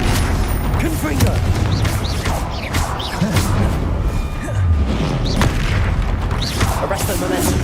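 A fiery Confringo spell blasts during a fight in Hogwarts Legacy. Loud booming thuds and explosive impacts pile up densely over steady battle noise.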